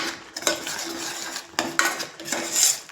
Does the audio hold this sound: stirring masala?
yes